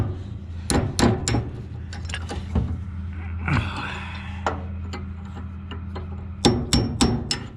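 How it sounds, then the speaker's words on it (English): A claw hammer strikes and pries on the husking bed of a New Idea 737 corn picker during a bearing and slip clutch repair. Sharp metallic clanks come in irregular clusters, with a spoken voice and a steady engine-like hum underneath. "He likes my use of a claw hammer."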